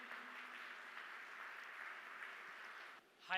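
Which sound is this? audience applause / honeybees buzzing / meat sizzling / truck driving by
audience applause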